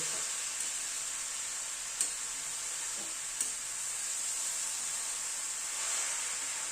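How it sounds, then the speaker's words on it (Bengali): Grated carrots fry in a pan for a dessert, producing an even, continuous hiss of sizzling at moderate level, with only a couple of faint utensil taps and no speech. "গাজরটা কিন্তু ভাজতে ভাজতে আরো কমে আসবে।"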